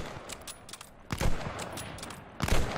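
Two or three sharp Kar98 rifle shots crack out from a noisy, busy Call of Duty: Vanguard battle with scattered distant gunfire in the background.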